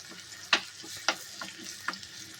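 Smashed garlic cloves and okra frying in a pan with turmeric, giving a soft continuous sizzle punctuated by a few sharp, close spatters and pops.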